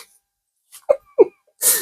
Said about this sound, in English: There we go, I just had to sneeze.